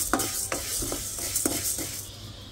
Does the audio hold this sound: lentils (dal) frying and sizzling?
yes